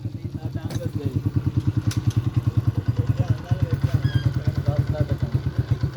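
A scooter engine runs close by with a steady, pulsing low throb and occasional clatter and thumps, while people talk nearby.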